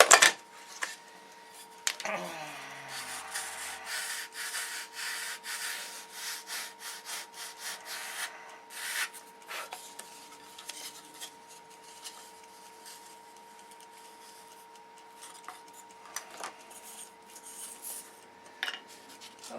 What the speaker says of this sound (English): With a sanding block.